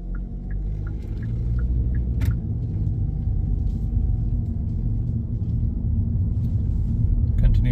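A car driven by a student driver rolls along a road, its low engine rumble and tyre noise steady inside the cabin, with a few faint clicks from the turn signal early on.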